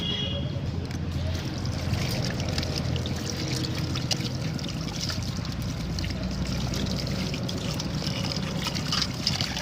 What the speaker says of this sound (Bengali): আমি এবার মাছটা পরিষ্কার করে ধুয়ে নিয়ে আসি